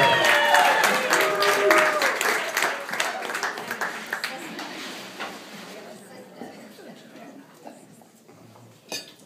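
Wedding reception guests break into loud applause and cheers that fill the room, then gradually thin out and fade toward quiet, with one last brief burst near the end.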